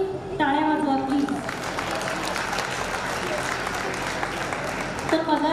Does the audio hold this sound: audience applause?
yes